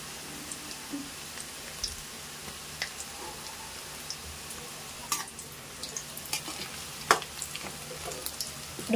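Pakodi fritters deep frying in hot oil, a soft continuous sizzle and bubbling with scattered faint pops and a few clinks, close but gentle, no voices.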